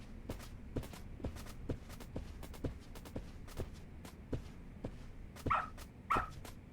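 A dog in the video game Lost Judgment pads around with rhythmic soft footsteps, then gives two short barks near the end, fairly quiet and close.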